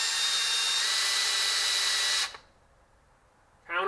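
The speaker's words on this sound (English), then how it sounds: "I'll do the same to the other two holes." A power drill countersinks screw holes in a shower curtain rod, one loud steady whine running for about two seconds before cutting off, then starting again at the end after a short quiet gap.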